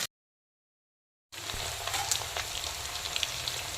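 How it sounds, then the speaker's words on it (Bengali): Taro (gathi kochu) pieces deep frying in hot oil until reddish brown for a bhola fish curry, a steady dense sizzle that starts after a brief silent gap and continues close and even. "তো ওই গাটি কচুগুলোকে লাল লাল করে ভেজে নিচ্ছি।"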